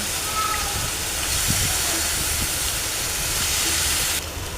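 Chicken meat sizzling in a hot pan with spices, a constant loud hiss with faint scraping underneath, steady throughout before dropping slightly at the end.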